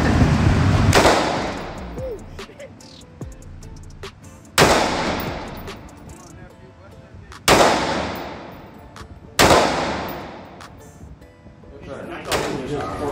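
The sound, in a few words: gunfire from Rostic Arms firearm at demo day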